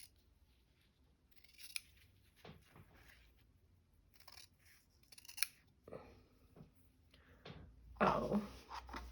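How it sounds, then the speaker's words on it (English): Good fabric scissors snip cloth in a few separate close crisp cuts with quiet handling noise in between, ending in a louder rustle. "Here are my good scissors."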